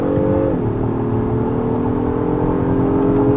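A 2025 Acura MDX Type S Advance with a 10-speed automatic accelerates hard to pass, its engine note rising to a steady, loud drone heard from inside the cabin after a quick shift, with no talking.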